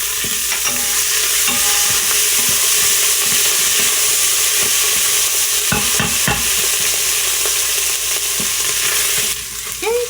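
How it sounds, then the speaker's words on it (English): Garlic sizzles steadily in a hot pan while a spoon stirs it, scraping with irregular knocks over the constant close frying hiss; a Gujarati ridge gourd and moong dal dish is being cooked. "Give that a good stir. Let the garlic start cooking."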